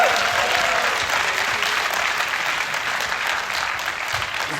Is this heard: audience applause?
yes